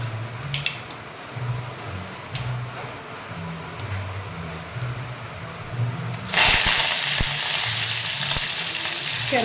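Okra and mustard seeds frying in hot oil, first a low crackle with scattered pops, then a sudden loud, steady sizzle as more goes into the pan, continuing to the end.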